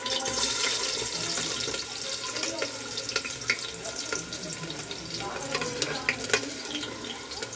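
Chopped onions and cumin seeds frying in a pan for biryani, a steady broad hiss and crackle with scattered clicks and scrapes of stirring throughout, close and moderately loud.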